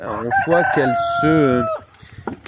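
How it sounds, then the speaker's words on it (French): Roosters crow in springtime, a loud nearby cock-a-doodle-doo with rising and sustained tones lasting most of the moment, followed by quieter clucks and scattered farmyard sounds. "Oh là, les coqs, ça chante."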